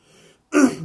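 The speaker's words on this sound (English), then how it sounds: "Sorry if I'm coughing a lot." A single short, close cough or throat clear from a man, one harsh burst after a brief faint murmur, then silence.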